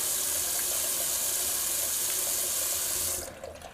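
Water runs steadily from a bathroom tap for rinsing a face after a wet shave, a close, constant splashing hiss that cuts off near the end.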